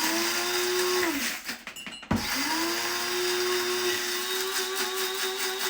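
An electric blade grinder whirs steadily at close range, its pitch dipping as the motor stops briefly, then spinning back up into a constant high drone.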